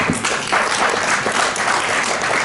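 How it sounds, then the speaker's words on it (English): A crowd at a logistics conference on the ASEAN Economic Community applauds a trade agreement, dense, loud clapping sustained evenly throughout without any voices on top. "We should all have a huge round of applause for that."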